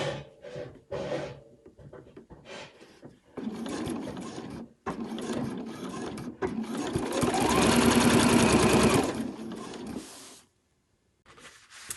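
Sewing machine running steadily as it finishes a line of stitching on fabric, a close, sustained mechanical whir that builds to a dense stretch before stopping, with some lighter handling noises before it.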